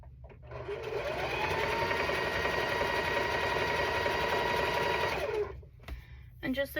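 A sewing machine hums through quilt fabric in one steady run of about five seconds, then stops, followed by faint handling noises.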